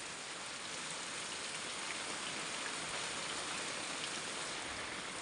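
Heavy rain pours down steadily, a dense, continuous hiss of drops drumming on surfaces, loud and close with no pauses.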